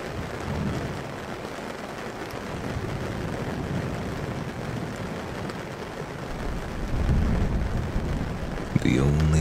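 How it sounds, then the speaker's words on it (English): Steady rain drums on a tent at night with low rumbling thunder beneath, a dense continuous wash that swells louder toward the end, with no talk over it. "The only thing you hear is the rain and the thunder."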